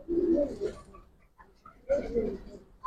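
A female pigeon, a Giribaz silver type, gives two soft throaty coos about two seconds apart, close by, with brief handling noise between them.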